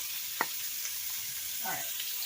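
Chopped onion and red pepper fry in a pan, giving a soft, steady sizzle with a couple of brief clinks from stirring over it.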